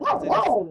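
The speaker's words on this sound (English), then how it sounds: "That was a dog." A dog's single sharp bark, close and loud, lasting under a second, with a brief spoken word overlapping it.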